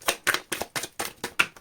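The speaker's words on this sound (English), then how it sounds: "Last shuffle." Tarot cards shuffled by hand in quick, repeated bursts, about seven short riffling snaps in a regular rhythm, close by.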